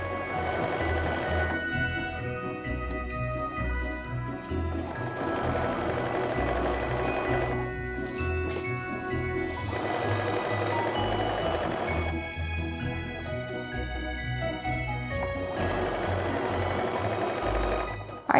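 A sewing machine chain piecing fabric for a snowflake mug rug runs steadily and close, with a continuous rapid stitching hum that pauses briefly twice before starting again.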